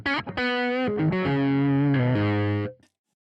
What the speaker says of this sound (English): I've got my sort of darker tube screamer over on the left,